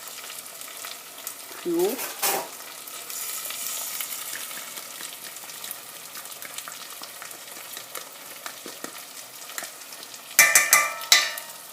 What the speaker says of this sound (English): So now you just give it a stir.